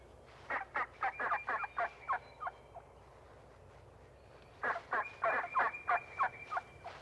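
A flock of wild turkeys on open Ozark farmland meadow in Missouri gobbles in two loud bursts of rapid rattling calls, each a quick run of pulses separated by a few seconds of quiet.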